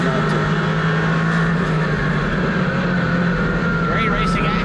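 Cars racing at Hickory Motor Speedway, the number 9 working on the number 1 car, produce a continuous engine roar throughout, loud and steady with a brief rising whine near the end, under ongoing commentary.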